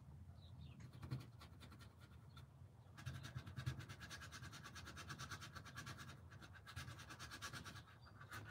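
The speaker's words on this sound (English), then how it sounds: "You can hear how hard I'm scrubbing in there to get that." A stiff brush scrubs white paint onto a spring rabbit painting in quick, close, scratchy strokes that come in rhythmic bursts. The scrubbing is quiet but clear and is heard without any talk.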